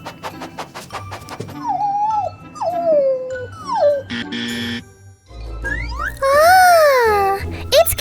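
Hungry dog whining and howling in long rising and falling cries, several in a row with jingling, mixed with someone talking and other voices nearby.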